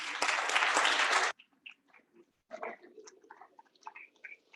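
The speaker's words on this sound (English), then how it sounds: "If we can get a round of applause." A short burst of clapping from a student senate meeting room, dense and loud for about a second before stopping abruptly, followed by scattered faint murmurs and small movement sounds.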